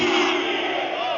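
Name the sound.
crowd shouting the slogan Nara-e-Haidari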